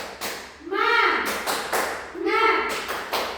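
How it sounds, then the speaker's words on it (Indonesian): Schoolchildren in a classroom doing the rhythmic 'tepuk semangat' spirit clap, sharp claps in bursts mixed with chanted voices, two repeated phrases of clapping and shouting. "coba kita tepuk semangat sama-sama"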